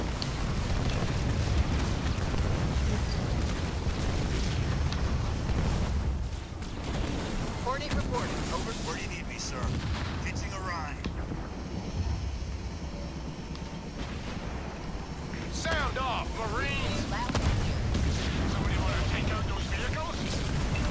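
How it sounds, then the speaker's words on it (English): Artillery cannons and explosions in the Halo Wars 2 video game rumble in a dense, continuous barrage of booms and blasts, with someone talking over the battle noise. "they make a nice meat shield against the Raves long enough for those artillery cannons back here to actually get the hits"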